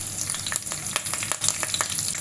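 Mustard seeds, cumin and curry leaves crackle in hot oil for a Konkani raw mango kadhi, giving a dense, close sizzle with quick popping bursts and a stirring rattle throughout.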